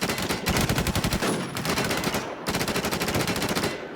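Rapid automatic gunfire in a shooter video game: loud, close bursts of fast repeated shots with a brief pause partway through, then another sustained burst, no talk over it.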